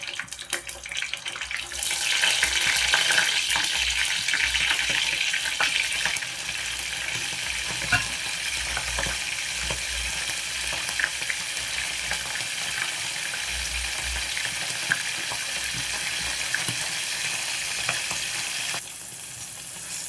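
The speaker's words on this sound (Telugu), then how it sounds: "ఆయిల్ కొంచెం వేడెక్కగానే ఈ మనం కడిగి పెట్టుకున్న ఎండు చేప ముక్కలే వేసేసుకుందాం" Pieces of dried fish fry in hot oil for a curry, making a steady, close crackling sizzle. It starts with a louder burst, then settles into a continuous hiss, with no talking.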